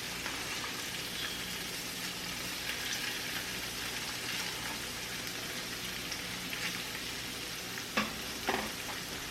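Salmon spring rolls fry in a pan with a steady, close crackling sizzle like light rain, carrying on evenly for several seconds. A couple of sharper pops or knocks come near the end.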